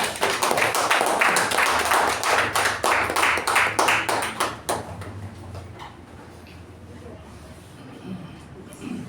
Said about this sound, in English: With huge round of applause, please welcome Toastmaster Gajendra.